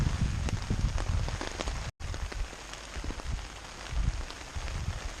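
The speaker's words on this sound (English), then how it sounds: "There's a lot of thunder coming, so it is raining harder." Heavy rain patters steadily on a taut tarp during a thunderstorm on the Appalachian Trail, dense irregular drumming with a brief dropout partway through.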